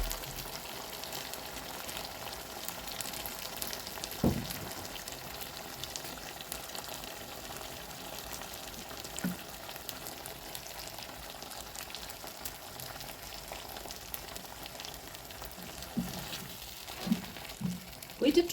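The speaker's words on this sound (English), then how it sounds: "Wait it to boil a little" Cow liver cooking in a pan, a steady low bubbling and sizzling simmer running throughout at moderate level, with a few faint knocks and stirring sounds.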